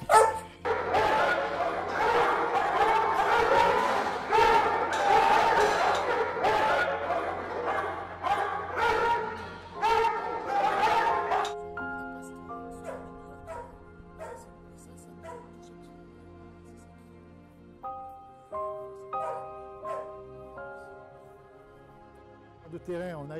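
Retired police dogs at a kennel let out excited barks and yips, then high whimpers and whines, close by and loud at first before the sounds thin out. People talk now and then alongside the dogs.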